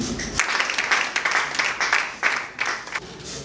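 An audience at an end-of-year ceremony for the IGDE school claps steadily, a dense patter of many hands that continues throughout at moderate loudness.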